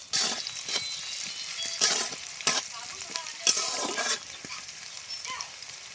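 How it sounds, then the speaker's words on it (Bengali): Onions frying in a pan until reddish while being stirred, a bright continuous sizzle broken by sharp scraping strokes of the spatula at irregular intervals, close and fairly loud. "পেঁয়াজটা একটু লাল করে ভেজে নিই।"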